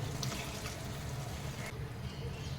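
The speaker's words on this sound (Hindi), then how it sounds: "अब हम ये प्याले में जो हमने सोयाबीन किया था उसको मैं थोड़ा सा पानी डालती हूँ, आधा कप" About half a cup of water pours into a bowl of soybeans in a kitchen, a soft steady splashing trickle that stays faint and continuous throughout.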